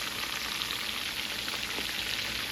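Chicken wings frying in a pan for Buffalo wings, a steady close crackling sizzle with dense fine popping throughout and no talking.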